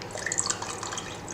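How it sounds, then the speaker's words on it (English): Orange blossom water and rose water trickle into a sugar syrup for baklava, small close drips and splashes over a soft liquid patter, with no talk. "and I will be adding some orange blossoms water, a little bit like that, and pure rose water"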